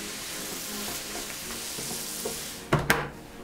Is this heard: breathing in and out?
no